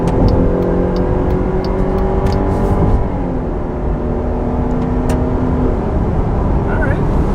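2021 Jeep Grand Cherokee L pulling hard at wide open throttle, a loud steady engine drone rising in pitch inside the cabin, with voices talking over it throughout.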